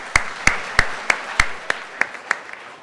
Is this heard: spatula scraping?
no